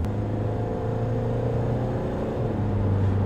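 Inside a Mahindra XUV500 automatic under acceleration, a steady engine drone and road rumble rise gradually, with a slight dip around a gear change before the pitch climbs again.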